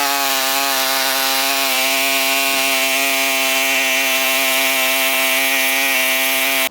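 A pressure washer cleans stained travertine patio stone at under 1,500 PSI, its motor giving a loud, steady, close droning whine with even harmonics that holds without a break and with no talk.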